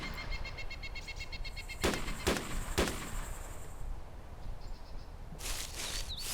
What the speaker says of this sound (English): Now the M16 and the Glock are fighting.